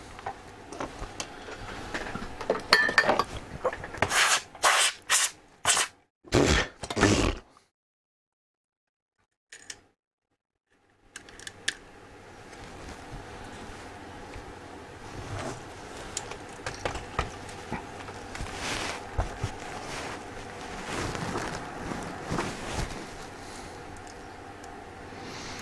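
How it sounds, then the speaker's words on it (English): Small ticking, clicking mechanical taps from a screw being driven down inside the chassis of a GEC BC 5645 valve radio during repair, a cluster of sharp clicks early, a brief silence, then softer continuous fiddling noises close by. "I'm just screwing this down in the bottom here."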